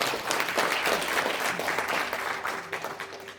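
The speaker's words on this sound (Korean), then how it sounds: "박수 부탁드리겠습니다" An audience in a National Assembly conference hall claps warmly for a few seconds at a memorial rally, dense steady applause without voices.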